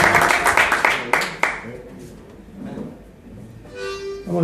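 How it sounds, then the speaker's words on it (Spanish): An audience at a blues band concert gives a burst of clapping and applause at the start, quickly fading into quieter room noise with a brief tonal sound near the end. "quiero un aplauso muy fuerte"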